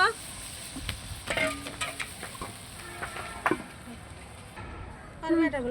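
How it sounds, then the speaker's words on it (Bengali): Potatoes and eggplant being stir-fried with a little gravy, a soft sizzle with scattered stirring clinks and scrapes, a voice speaking briefly over it. "এখন আমি এই যে আলু বেগুন এগুলো সব দিয়ে একসঙ্গে কষিয়ে নিব একটু ঝোল দিয়ে কষিয়ে নিব"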